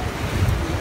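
Ocean waves at Mirissa beach in Sri Lanka make a steady, broadband wash of surf with a low rumble, heavily mixed with wind noise across a short stretch.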